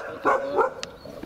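A small stray dog gives a few sharp, whining barks close by during a dog-catching operation, short bursts over a low background murmur.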